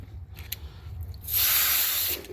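Water sprays onto a nitro RC car being washed, a loud close hiss lasting around a second, preceded by faint handling noises.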